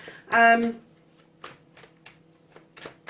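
A burst of tarot card shuffling, a quick riffle in the first half second, followed by a few soft taps and shuffles of cards handled close by.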